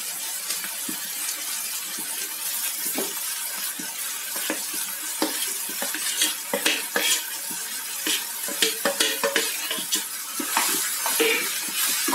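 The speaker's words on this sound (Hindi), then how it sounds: "कढ़ाई में तेल छोड़ दिया है अब हम इसमें आलू डाल रहे हैं" Potatoes frying in hot oil in a kadhai, a steady close sizzle with scattered sharp crackles and stirring clinks of a utensil against the pan, no talk.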